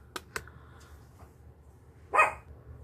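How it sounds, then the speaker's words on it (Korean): Small dog indoors giving two quick sharp barks, then a louder single bark a couple of seconds later, against a quiet room background. "강아지가 자꾸 짖어가지고요."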